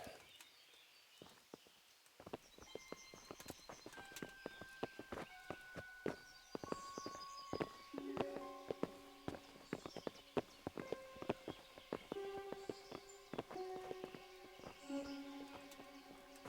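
Hooves clip-clop at a steady walking pace in the video game Kingdom Come: Deliverance, several horses moving together, with sustained musical tones ringing underneath.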